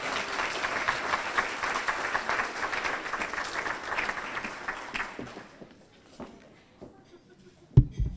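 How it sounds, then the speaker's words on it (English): An audience at a 2014 hospital internship graduation claps in a dense burst of applause that fades out after several seconds, leaving scattered quiet noises. "Round of applause, please."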